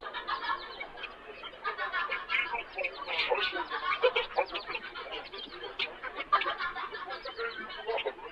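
A dense, busy bus stop ambience of overlapping chatter-like and clucking tones, lowered in pitch, steady and continuous throughout at moderate level.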